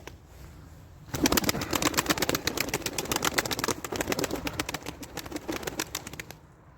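Young tumbler pigeons are in a loft, with a continuous chorus of close cooing and rustling. It comes in abruptly and keeps up dense, rapid pulses for about five seconds before cutting off.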